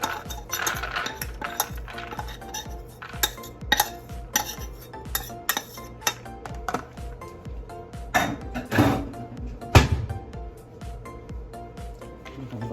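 Lentils dumped into a mixing bowl in a home kitchen, with clattering and rattling of dishes and utensils in quick irregular clinks and knocks, close and fairly loud.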